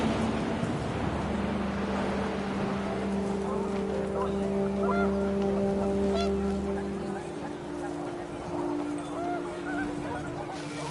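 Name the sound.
panicked geese honking in wind, from video game What Remains of Edith Finch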